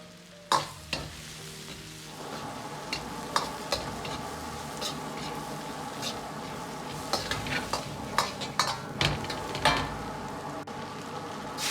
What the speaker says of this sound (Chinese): 炒香后，倒入豆角和土豆丁，